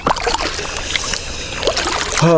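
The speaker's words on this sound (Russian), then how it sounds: "Прошла моторка, подняла волну старого образца" A passing motorboat's wake washes against a kayak on a river, giving a continuous sloshing, splashing wash of water close by. A brief voice comes in at the very end.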